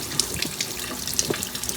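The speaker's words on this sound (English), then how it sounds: "So we're going to turn the water on." Water runs from a kitchen tap into a sink, a steady close splashing stream with small irregular spatters and drips, no voices.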